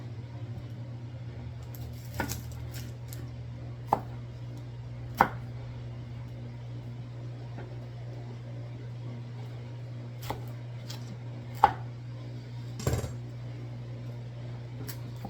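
A knife cuts an onion into big chunks for a goat stew with foraged mushrooms, making sparse, irregular sharp taps on a board over a constant low electrical hum.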